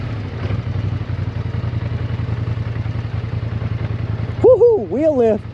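A dirt bike engine at Pinelane ATV Park putters in a steady close rhythm, then a man's excited whooping rises over it near the end.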